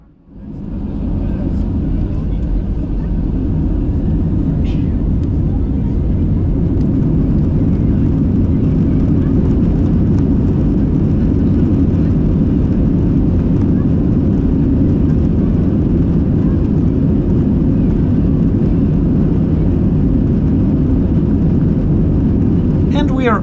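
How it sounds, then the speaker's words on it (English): A Condor Airbus A321 taking off, heard from inside the cabin as a loud, steady roar of engines and rushing air that swells in at the start and holds throughout, with no talking. "now we're gonna watch our takeoff, and of course we're also gonna listen to it with the original sound"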